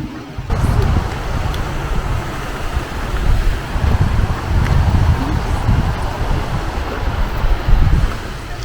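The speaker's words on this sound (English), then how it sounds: "sit in here near the river, listen to the sound of the river" A river flows beside walnut trees in a small village near Tehran, a steady broadband rush with some wind-like gusts running continuously at moderate loudness.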